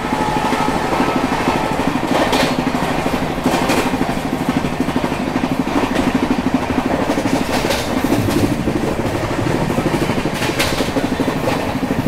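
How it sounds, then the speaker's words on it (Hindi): Aboard a moving train, a steady rumble with rhythmic clickety-clack of wheels over rail joints carries on throughout as the Shatabdi Express overtakes the Nagercoil Mumbai Express, loud and continuous. "शताब्दी एक्सप्रेस ओवरटेक कर रही है नागरकोइल मुंबई एक्सप्रेस को।"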